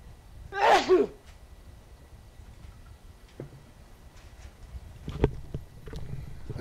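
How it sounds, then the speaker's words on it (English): A single loud, sharp sneeze near the start, followed by quiet room noise and a few faint clicks and knocks. "I heard that sneeze in the other room."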